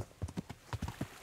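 Horse hooves clopping during a ride in the medieval game Kingdom Come: Deliverance: a quiet, rhythmic run of hoofbeats in a steady gait.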